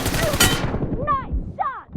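Rifle gunfire from an M4 with a compressor, a burst of sharp close shots at the start, followed by a few shorter metallic clanks and ringing tones, with steady background noise throughout.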